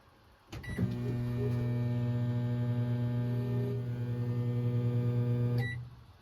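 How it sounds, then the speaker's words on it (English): A steady electrical hum with a low drone switches on abruptly, runs evenly for about five seconds, then cuts off: a microwave oven running on an off-grid camper trailer's solar power, drawing about 100 amps. "And if I fire up the microwave quick, let's see."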